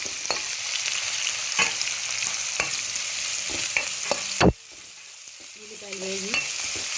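Chopped onions and green chillies fry in hot oil in a pan, a steady close sizzle broken by scraping stirs and one sharp knock. After the knock the frying continues more quietly, with a short squeaky scrape near the end.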